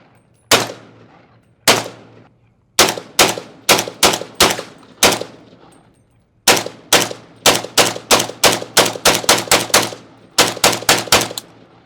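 A 300 Blackout PSA Krink rifle firing outdoors: loud, sharp gunshots in irregular bursts, first a few spaced single shots, then rapid strings of eight to ten quick cracks, each with a short echoing tail and no talking.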